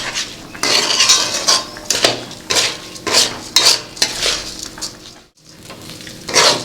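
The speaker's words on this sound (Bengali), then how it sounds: "চালটাকে ভাজা হবে ঝুরঝুরে হওয়া পর্যন্ত।" Rice being stir-fried in a wok for chicken tehari, with repeated loud scraping and clanking of a metal spatula against the pan in steady bursts over a light sizzle, with a brief pause near the end and no talking.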